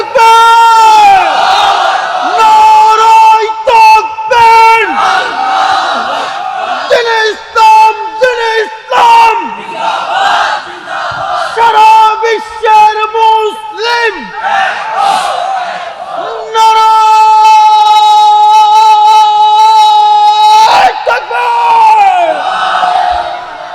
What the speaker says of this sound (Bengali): তাকবীর দেন তো জোরে, নারায়ে তাকবীর।